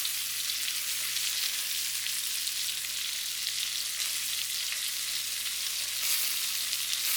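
Black tiger shrimp pan frying slowly, a steady, even sizzle with fine crackling that holds at a constant level throughout, no voices over it.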